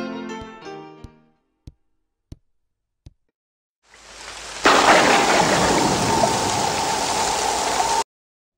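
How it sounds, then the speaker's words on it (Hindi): Heavy rain pours outside as a dense, loud roar that starts abruptly after a few sharp knocks and tones, swelling in and then holding steady before cutting off suddenly. "सीरियसली बहुत ज्यादा बारिश हो रही है बाहर"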